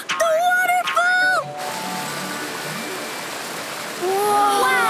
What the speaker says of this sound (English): Do you hear that? Is that a waterfall?